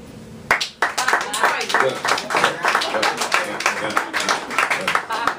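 Audience members at a spoken word poetry show clap in a short, scattered burst of applause, close and lively, mixed with a voice speaking and crowd murmur throughout.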